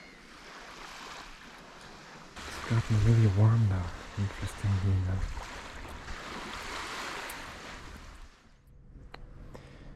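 Ocean surf washes over a French beach, with a steady broadband wash, brief louder swells and wind noise. A person talks over it in the middle.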